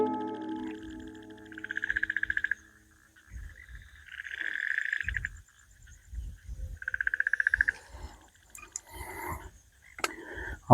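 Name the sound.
frogs and crickets at night in a forest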